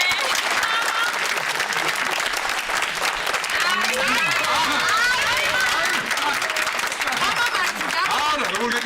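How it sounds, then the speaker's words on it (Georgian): Loud, continuous applause from a gathered crowd at a ribbon-cutting, with voices and chatter running beneath the clapping throughout. "აპლოდისმენტები."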